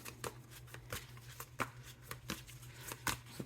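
Stiff tarot cards being shuffled in quick riffling bursts, a steady run of crisp snaps and flutters close by, with a low hum underneath.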